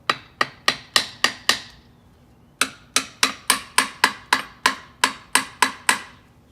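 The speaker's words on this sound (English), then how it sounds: "Now we're just gonna tap this cover off." Differential cover on a BMW E46 M3 being tapped loose with a hammer: two quick runs of sharp, close metallic knocks, about six then about a dozen, evenly paced with a brief pause between bursts.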